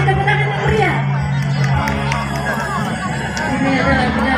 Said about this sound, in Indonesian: Kita beri tepuk tangan yang meriah